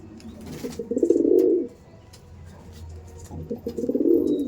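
Kalanka pigeons coo in a loft, two drawn-out rolling coos, the second after a brief pause, fairly close with faint chirps around them.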